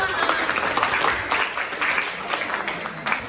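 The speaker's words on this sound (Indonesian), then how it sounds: "Tepuk tangan untuk kelompok 1." Classroom applause for a student group about to present, steady dense clapping from many hands filling the room without a break, with a voice speaking over it.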